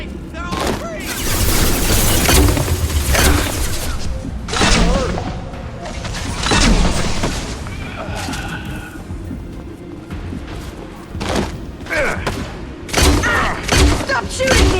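Gunfire from the video game Mass Effect 2 comes in loud, dense bursts of shots and heavy thuds. Voices talk over and between the bursts.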